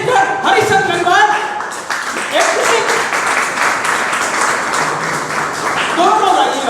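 Audience applause welcoming guests onto the stage at a Modicare meetup in Kaimganj, a dense, steady clapping from a crowd that fills the whole stretch, with a voice speaking over it in places.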